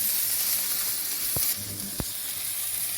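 Fresh garlic sizzling in a hot frying pan, a steady broadband hiss of frying throughout with two brief sharp pops or taps, no voices.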